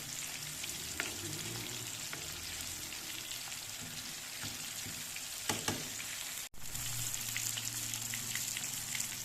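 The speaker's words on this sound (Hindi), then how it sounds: "एक साइड से ये हो जाएगी अच्छी सी फ्राई" Fish frying in a small amount of oil in a pan: a continuous close sizzle and crackle with a few spattering pops and brief handling clatters midway, no talking.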